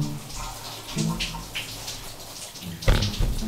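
Shower water runs steadily indoors, a soft hiss with occasional splashes that grows louder near the end, while faint voices can be heard.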